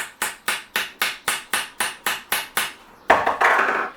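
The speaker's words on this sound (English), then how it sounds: "that's the lighter hammer she's using" A light hammer taps repeatedly on a curtain pole during a repair job, about ten sharp, evenly spaced close knocks, followed by a brief louder clatter of several quick hits.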